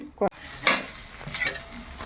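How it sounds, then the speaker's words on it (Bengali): Cabbage plate paratha goes into a kadai with a little oil: a short knock, then a burst of sizzle and soft clinks and scrapes of a utensil as it settles and fries quietly. "এবার কড়াইতে এটা চাপিয়ে দেবো এই যে অল্প তেল দিয়ে এর মধ্যে চাপিয়ে দেবো"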